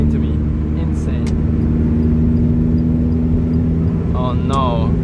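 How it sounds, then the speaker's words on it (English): A Lotus Elise with a small Toyota four-cylinder engine drones steadily at close range inside the cabin, then rises briefly in a quick rev near the end; a voice speaks over it. "A little 4-cylinder from Toyota can make this sound."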